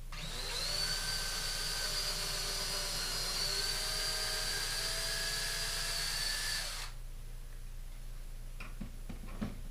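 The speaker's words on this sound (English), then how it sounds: "We want to have our drill bit extended as far as possible so we don't mess up the board." A power drill bores holes in a board, its steady whining motor running close and continuously for about seven seconds before cutting off, followed by faint clicks and handling noises.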